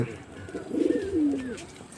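Pigeons being fed give a few soft, rolling coos up close, one longer gurgling call in the middle, with faint background murmur.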